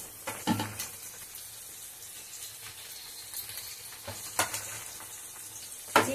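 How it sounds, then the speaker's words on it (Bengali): Spice paste with turmeric and chili powder frying steadily in a pan, a soft continuous sizzle with a few louder scraping stirs, fairly quiet and without talk. "এবার মশলাটা খুব করে কষাতে হবে, অনেকক্ষণ ধরে।"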